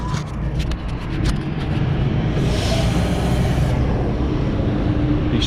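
Heavy trucks and road traffic rumbling past nearby, a steady loud low roar with a brief hiss of a passing vehicle swelling midway, no voices.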